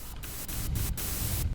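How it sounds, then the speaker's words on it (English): Broadband white noise from a Serum or Vital software synthesizer, a steady hiss broken by a few brief dips, close and fairly loud with no voice. "we're gonna make our clap out of white noise"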